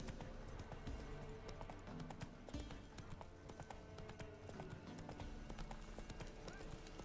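Roach the horse gallops in The Witcher 3, a steady clip-clop of hooves pounding under continuous game ambience and music, with a faint voice now and then.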